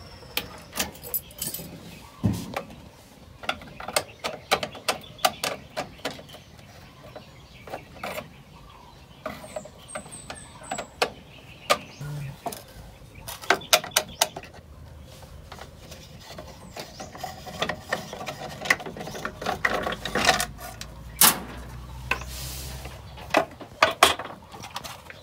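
Screws are backed out of the plastic cover on an Owner Type Jeep's wiper motor switch, giving scattered close ticks, clinks and ratcheting clicks with brief pauses and a low rumble near the end.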